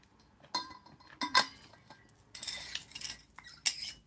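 Glasses clink together in a toast among a few sharp, bright chimes and small clatters, scattered and close, with no speech.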